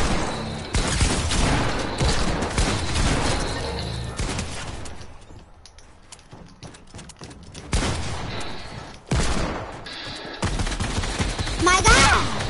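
Rapid bursts of SCAR rifle fire in a shooter video game, loud and close, coming in long sustained strings with a brief quieter gap midway before the shooting resumes, with voices mixed in.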